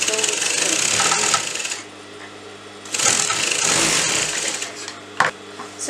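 A sewing machine runs straight seams on a shirt cuff sleeve in two loud, sustained bursts, separated by a short pause with a quieter hum and a sharp click near the end.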